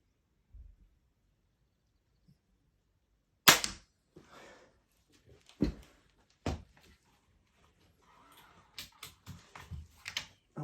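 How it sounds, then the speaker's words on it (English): Several sharp, loud snaps separated by quiet gaps as a Triad crossbow is cocked and fired: a mechanical cocking clack followed by a crisp release, then a cluster of smaller clicks and knocks. "want you to hear that being cocked as well as being fired"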